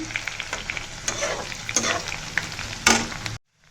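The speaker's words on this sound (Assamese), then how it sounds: "নহৰু আৰু আদাটো দি দিছোঁ, ভাজিছোঁ।" Garlic and ginger sizzle and crackle in a hot pan over low heat, with a few sharper scraping stirs, close up; the sound cuts off abruptly at the end.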